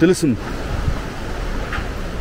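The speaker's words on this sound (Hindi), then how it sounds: "इस वक्त हवा चल रही है" Wind blows steadily through Garkhon village in Ladakh, a constant broadband rush with a brief louder gust at the start.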